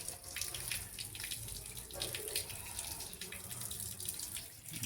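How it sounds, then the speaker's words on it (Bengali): Water gushes forcefully from a tap in a steady, unbroken rush of splashing for about five seconds. It is fairly quiet overall, with no clear voices. "দেখছো কিরকম ফোর্সে জল বেরোচ্ছে।"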